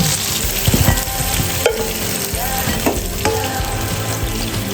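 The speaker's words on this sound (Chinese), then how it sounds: "锅里面多倒点油，先把虾煎一下" Shrimp frying in a generous amount of oil in a pan, a loud, close, crackling sizzle with scraping stirs and a few spatula knocks throughout.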